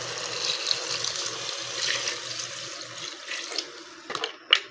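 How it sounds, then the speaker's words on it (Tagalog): Water pours from a tap into a cooking pot for mussel and shrimp sinigang, a steady splashing stream that fades, followed by a few clanks near the end. "Lagyan natin ng tubig."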